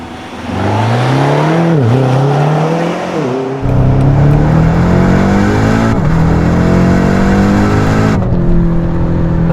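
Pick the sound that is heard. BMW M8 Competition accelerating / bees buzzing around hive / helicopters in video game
BMW M8 Competition accelerating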